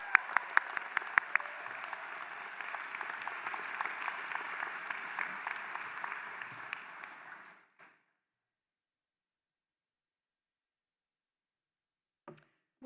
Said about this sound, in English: Last round of applause for these outstanding graduates